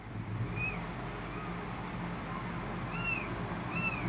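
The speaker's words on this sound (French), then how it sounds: "Oui, mon chat." A cat gives several short, faint rising meows, about three, spaced through a quiet indoor room over a low background hum.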